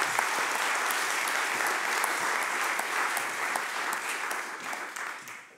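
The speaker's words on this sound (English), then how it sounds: "big round of applause for Henry Blumer" Audience applause for a speaker at a timber construction conference day: dense, continuous clapping from a large crowd, holding steady before tapering off at the end.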